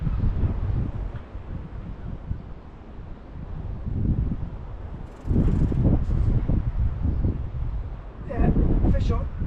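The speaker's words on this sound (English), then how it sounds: "The wind is absolutely horrendous." Strong coastal wind at Barry buffets the microphone in heavy, roaring gusts that swell and fade, loud and rumbling close by, with a voice heard faintly underneath.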